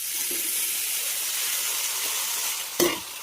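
Brinjal pieces for a brinjal and peas curry hit hot oil in a pan, giving a steady, even sizzle and hiss throughout with one brief louder burst of spatter near the end.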